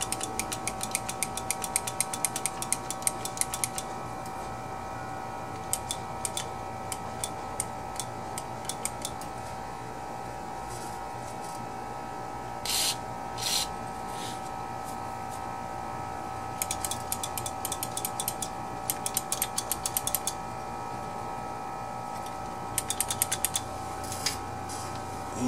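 A riding mower switch, sprayed with brake cleaner, is worked back and forth, producing bursts of quick clicking and ratcheting snaps with quiet pauses between, close by and fairly soft.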